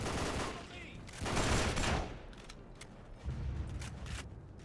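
Gunfire rattles through a World War II battle on Iwo Jima in the Xbox 360 shooter Battle for the Pacific, with dense bursts and booming shots forming a loud, continuous barrage throughout.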